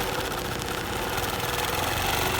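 A longarm quilting machine on a frame stitches a heavy denim blanket, giving a fast, steady, buzzing mechanical hum with an even rapid rhythm throughout.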